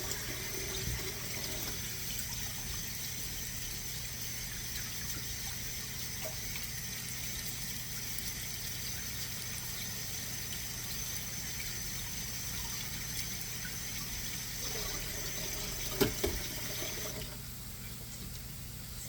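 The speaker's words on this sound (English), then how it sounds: "I'm just scrubbing the potatoes off. I'm not washing them. I have a scrub brush here." Faucet water runs steadily into a sink while potatoes are scrubbed with a vegetable scrub brush, a continuous hiss with a few brief clunks near the end.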